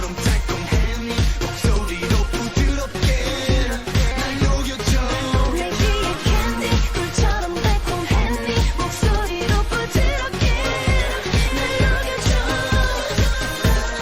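The original recording of the K-pop song plays as steady, rhythmic music with strong regular beats throughout and no talking over it.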